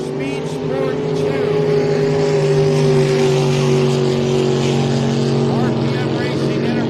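Racing boat engines at the Parker Enduro endurance boat race roar loud and close in a sustained droning whine, with overlapping motor tones shifting as the boats run.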